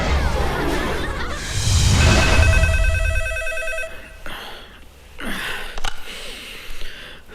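A telephone rings in a night scene from a Hindi thriller film, giving a steady electronic ring for about two seconds before stopping, followed by quiet breathing and rustling.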